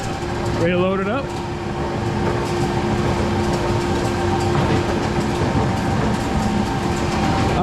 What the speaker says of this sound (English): So I'm turning on the blower, then the granulator, ready to load it up.